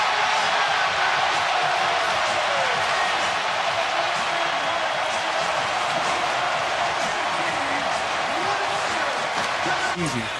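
An NBA Finals basketball arena crowd roars steadily in celebration, a dense, continuous wash of cheering with a commentator talking over it.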